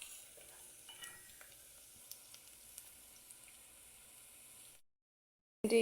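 Onions frying in a pan for tomato kabsa give a soft, steady sizzle with light stirring clicks, close by with no voices, before a brief dropout and a louder burst at the end.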